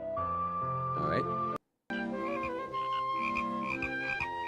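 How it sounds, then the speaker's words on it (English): A frog croaking in close-up, with repeated strong tonal croaks that break off briefly and resume, set against a busy background of other sound. "Here we show you a close-up of a frog croaking."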